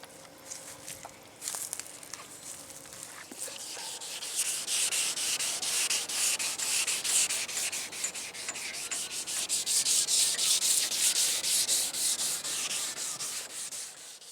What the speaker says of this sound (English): Got everything sanded back on the inside.